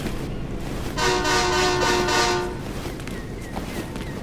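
A train horn blares in the video game Gotham Knights, one long sustained chord-like blast lasting about a second and a half over a rumbling rail backdrop that continues after it stops.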